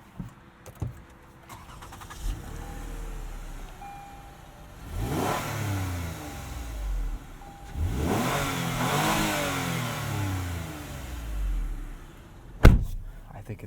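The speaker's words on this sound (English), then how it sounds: "I think this is a pretty nice sounding V6 as far as V6s go." A 3.5 liter V6 in a 2017 Lexus RX 350 F Sport with an 8-speed automatic, heard from inside at night, revs up twice in smooth, rising pulls. Quiet cabin hum comes between the pulls, and a sharp knock sounds near the end.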